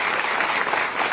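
Audience applause filling a hall at a community gathering, a dense steady wash of many hands clapping at once, loud and close throughout without any voices.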